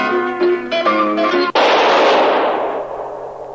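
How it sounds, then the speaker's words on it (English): In a Third Man radio drama, a few plucked musical notes are cut off by a single sharp, loud gunshot. The shot rings out with a long, fading echo. "That was the shot that killed Harry Lime."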